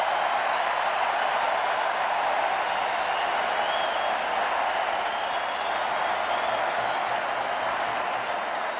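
A football stadium crowd at a Notre Dame versus Stanford college game applauds and cheers, a dense, steady roar of clapping sustained loudly throughout.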